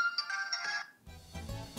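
A fake Galaxy S4 replica phone plays a short bright electronic shutdown jingle for under a second, followed by a brief lull and then low rumbling handling noise.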